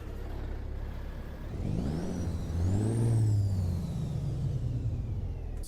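A Cat 3406 truck engine in American Truck Simulator revs up from a steady low idle to a rising, whining diesel roar, then eases back down, loud and close with no speech.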